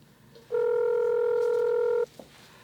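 Several telephone keypad tones beep in quick succession, then one long, loud, steady ringback tone sounds before cutting off, with a brief faint click after it and no talking.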